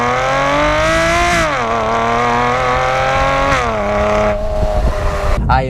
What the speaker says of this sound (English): the MM exhaust comes with that catalytic converter, and it really helps to boost that sound